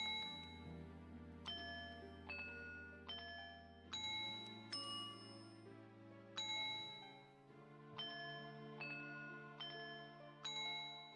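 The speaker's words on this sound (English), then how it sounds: "the fairies, either their body makes a bell noise or they have a tiny little bell" Bright fairy bell chimes from Majora's Mask, a steady sequence of about a dozen clear metallic dings with shimmering overtones, each struck and left to decay over a soft sustained musical backdrop.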